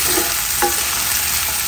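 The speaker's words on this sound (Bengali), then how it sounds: "আগে আলু ভেজে নিব তারপরে শাকটা দিব" Potatoes frying in a pan give a steady, bright sizzle, with a quick stir or scrape about halfway through the short stretch.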